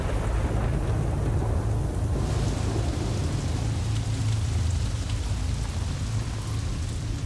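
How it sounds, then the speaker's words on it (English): Heavy rain pouring down in a dense, continuous roar, loud and unbroken throughout with no voices. "After 8 days of solid rain"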